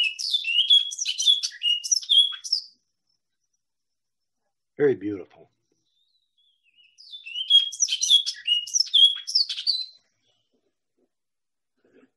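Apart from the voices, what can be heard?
first-year male orchard oriole song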